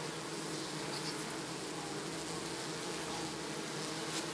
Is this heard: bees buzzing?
yes